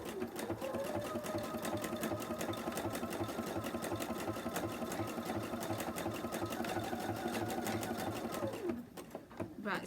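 Sewing machine stitching quilt fabric, a steady rapid mechanical chatter running near and loud for nearly the whole stretch, slowing and stopping briefly near the end.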